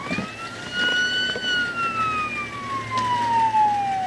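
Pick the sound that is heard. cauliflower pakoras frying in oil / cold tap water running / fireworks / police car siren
police car siren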